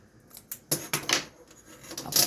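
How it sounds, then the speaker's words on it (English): Scissors cut through yarn while a tassel is being made, giving a few quiet, sharp snips and clicks spread over a couple of seconds, close by and alone. "You're going to take your scissors and you're going to go down that slot that I told you about there."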